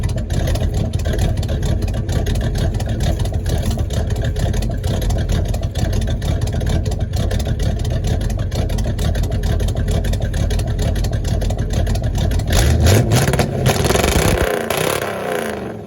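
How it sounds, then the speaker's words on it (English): A 1979 Chevy engine idles with a lumpy, thumping cam rhythm, steady and loud up close, with a brief revving swell near the end. "You hear that little cam going thumpy thumpy?"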